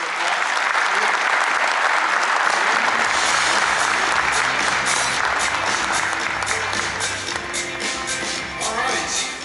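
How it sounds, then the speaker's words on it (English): A conference audience at a partner general session gives a sustained, dense round of applause, loud and continuous for several seconds. "Everybody give them a nice round of applause."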